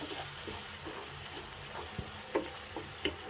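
Onions and blended spice paste for a rohu fish curry frying in a pan: a soft, steady sizzle broken by a few sharp scrapes and clinks of stirring.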